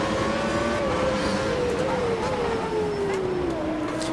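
A race car engine in the Automobilista 2 racing game drones steadily near and loud, its pitch sliding slowly downward as the car decelerates, with no voices over it.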